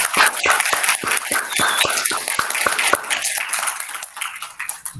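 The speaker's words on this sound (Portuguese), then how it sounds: "Então peço uma salva de palmas ao doutor Marcos" Applause for a speaker at a university lecture on offshore IT services, heard as a sparse scattering of separate claps over a room murmur, thinning out toward the end.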